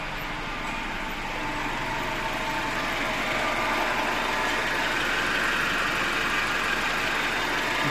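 A 2002 Hyundai Elantra with a 1.6 engine and automatic gearbox idles with a steady, even mechanical hum and faint ticking, heard close with the bonnet open and no talk.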